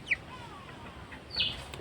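Brahma chickens give two short, fairly close clucking calls, one near the start and one later, against a quiet background.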